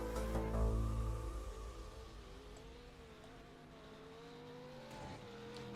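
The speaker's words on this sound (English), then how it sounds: "You can hear his car screaming on through the hairpin." Race car in a time attack session at a hairpin, a loud engine burst and tire noise at first that fades to a distant, faint sustained engine whine, no voices.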